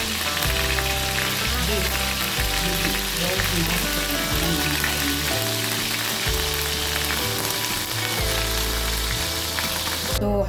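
Beef sizzles steadily in a frying pan as a home-cooked beef and white mushroom dish is prepared, a constant bright hiss running beneath loud background music with a brief spoken word.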